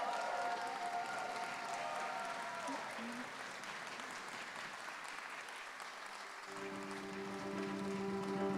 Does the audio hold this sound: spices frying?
no